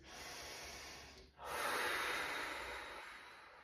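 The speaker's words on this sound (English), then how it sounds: "and then 3 breaths through your nose" Two close nasal breaths taken during a core fascial breathing exercise: a long rushing sniff, a brief pause, then a louder, longer inhale that slowly fades, with no talking.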